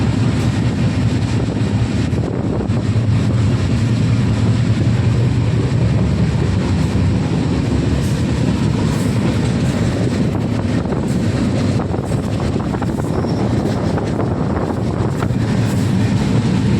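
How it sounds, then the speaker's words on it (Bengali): A train running along rails through a forested stretch, heard from on board as a loud continuous rumble with wind-like roar throughout, no talk. "ওই দেখো ট্রেনটায় দেখা যাচ্ছে, পিছনে যাচ্ছে না।"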